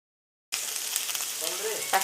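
Garlic sizzles in hot oil in a pan while making an eggless potato cutlet, a steady close frying hiss that starts abruptly after a half-second of silence, with a brief faint voice near the end.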